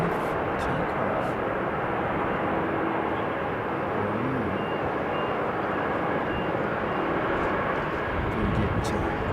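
An Airbus A380 airliner comes in to land at Sydney airport, its engines a broad, continuous roar that holds at an even loudness throughout.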